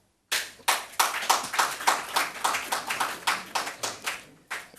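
A burst of brisk clapping from a small audience at a Ghanaian parliamentary budget session, sharp and close with a steady rhythm of about a dozen claps that gradually soften, heard alone without talking.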